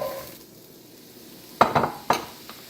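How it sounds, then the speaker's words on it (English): Onion dropped into hot oil in a skillet brings a sudden burst of crackling sizzle and spatula clatter after a quiet, faintly hissing start, with a couple of sharp strikes in quick succession. "the first thing we're going to do is we're going to dump in our onion"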